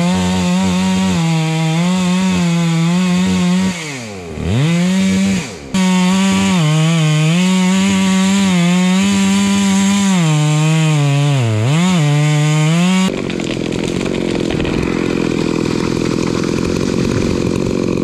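A chainsaw roars loud and close while felling a tree, its engine holding a steady high whine that dips twice under load, then giving way to a rougher idle for the final seconds.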